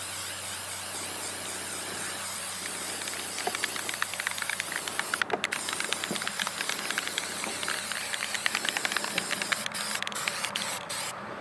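A spray can hisses in short bursts as white paint goes onto the sides and back of a burlapped bluebill duck decoy, a faint steady spray interrupted by brief gaps and light rattles.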